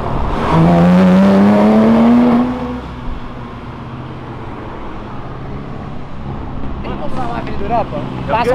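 A rare Porsche sweeps past, its engine loud and close with a strong rising note for about two seconds before fading into a low road rumble, with brief voices near the end.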